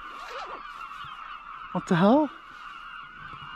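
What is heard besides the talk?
birds calling noisily at a coastal wild camp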